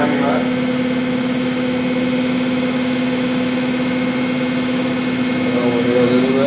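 A DC interpole motor drives an automatic gearbox and prop shaft with a steady, close mechanical drone and a constant hum. The sound holds even throughout with no knocks or grinding.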